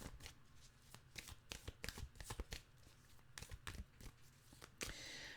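Playing cards are shuffled close up and alone, with a quick run of crisp riffling bursts and soft slaps that carry on for several seconds.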